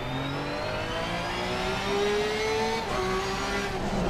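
A race car engine in a racing video game revs and accelerates steadily, rising harmonic whine climbing in pitch, then briefly dipping as it shifts before pulling again, loud and continuous with no talking.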